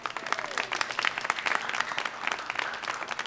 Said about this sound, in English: I want you to clap as loud as you possibly can